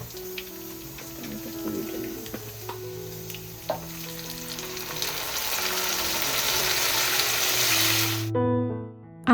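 Onions and potatoes fry steadily in hot oil, a close continuous sizzle that builds and brightens over several seconds before cutting off abruptly near the end.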